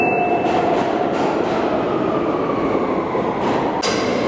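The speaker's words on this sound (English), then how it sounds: "And now we wait for the train." An E train subway pulls into a station with a loud, continuous rumble, with faint wheel squeal and metallic screeches riding on top.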